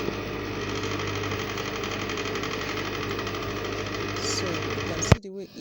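Sewing machine stitching down the seams of a bustier, a steady mechanical hum and rapid needle clatter running close and loud, then stopping abruptly near the end, with a voice talking over it.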